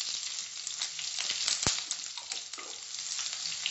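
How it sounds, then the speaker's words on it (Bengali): Sliced onions added to hot oil with curry leaves sizzle and fry steadily in a pan, a continuous close crackle with occasional stirring scrapes and pops. "এবার স্লাইস করা পেঁয়াজটা দিলাম"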